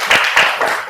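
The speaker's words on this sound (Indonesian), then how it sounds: "Tepuk tangan dulu kita untuk bagus." Classroom applause during a lesson, a short burst of hand clapping with two or three rhythmic swells, loud and close, sounding like a group of students clapping together.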